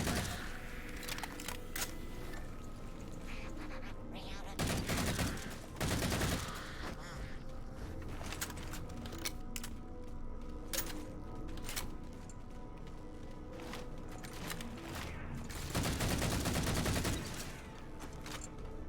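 Gunfire in the Halo 4 video game, sustained rattling weapon fire through most of the stretch, with heavier louder bursts near the start and again toward the end, under no talking.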